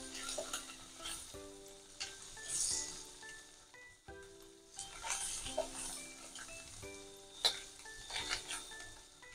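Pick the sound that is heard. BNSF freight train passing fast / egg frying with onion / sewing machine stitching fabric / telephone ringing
egg frying with onion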